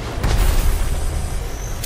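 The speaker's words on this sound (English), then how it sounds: "There's a nade." A grenade going off in the battle-royale shooter Apex Legends, a loud deep boom with a rumbling roll that lingers for about two seconds, close and alone.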